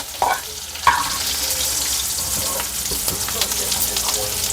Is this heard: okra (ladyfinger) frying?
yes